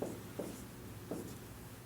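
Marker or chalk strokes on a classroom board during a math lesson, a few short quiet scratching taps spaced apart against a faint room background.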